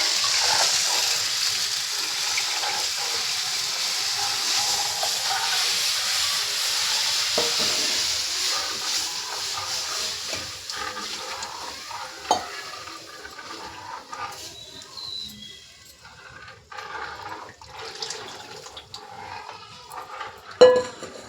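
Buttermilk is poured into a pot of tempered kadhi while it is stirred continuously, giving a close, steady sizzling and sloshing wash with occasional clinks of the spoon against the pot.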